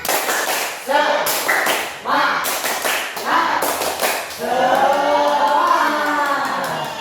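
Students in a class clap out a patterned rhythmic chant, clustered hand claps alternating with shouted group responses, close and lively, with a teacher calling the cue.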